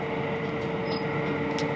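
Great Western Railway Class 387 electric train standing at Cholsey station: a steady interior hum with a constant tone, a brief high squeal and faint clicks, no voices.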